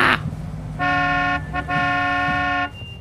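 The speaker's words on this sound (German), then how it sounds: "Was hupt er denn jetzt, den Jon?" A car horn in the video game My Time at Sandrock honks in two sustained blasts, the second longer, loud and close with a bright tonal buzz.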